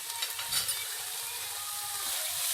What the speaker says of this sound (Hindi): इसे हम मिक्स कर लेंगे और इसे 2 से 3 मिनट तक पका लेंगे